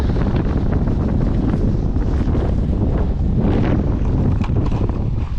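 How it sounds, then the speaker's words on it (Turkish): Strong wind buffets the microphone in a continuous low roar in a sunflower field, gusting louder at moments, with no voices. "Allah'ım rüzgara bakın"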